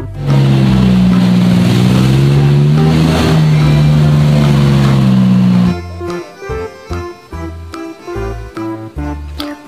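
A toy jeep blares a loud, sustained electronic engine-revving tone with wavering pitch, then switches to choppy, pulsing music-like beeps in short rhythmic bursts.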